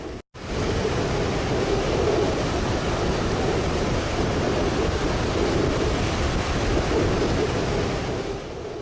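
Sea waves surge through the rocky shoreline formations at Blowing Rocks in a loud, continuous rushing roar. The sound opens with a brief cutout, then holds a sustained wash of surf and wind.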